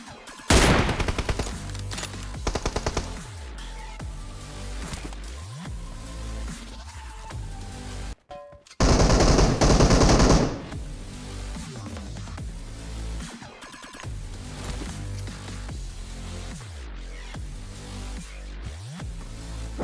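Rapid gunfire in a shooter video game, with dense repeated bursts of shots and automatic fire, loud and close, broken by a brief pause and a sustained heavy volley.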